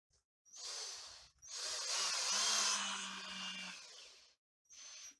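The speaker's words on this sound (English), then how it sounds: "Just going to slow down the drill now, down into low speed." A power drill driving screws whirs in three bursts at low speed, the middle one longest, with brief pauses between them, close and fairly loud.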